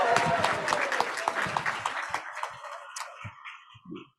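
A school assembly audience claps steadily, the dense applause thinning and trailing off into a few scattered claps.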